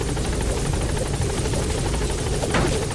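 Helicopter in the video game Metal Gear Solid V: The Phantom Pain, a loud, steady rotor drone with continuous chopping throughout, filling the whole stretch with no talk.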